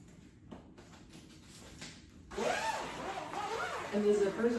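The zipper on the fabric cover of a clothes rack is drawn along in a quick scratchy run after a quiet start, close and clear, with a person talking softly underneath.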